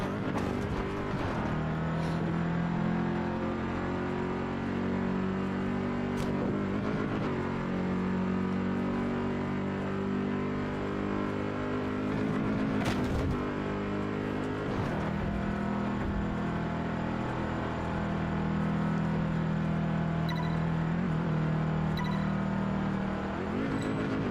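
A car engine in the racing game Test Drive Unlimited 2 drones loudly and continuously, rising in pitch and dropping sharply at several quick gear shifts, with no talk over it.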